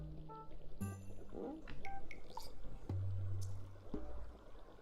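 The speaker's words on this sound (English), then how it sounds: "My cauldron is bubbling with ingredients from the forest." A bubbling cauldron in Stardew Valley, with gurgling, pouring liquid sounds and plops mixed with chimes and game effects over soft background music, fairly loud and close.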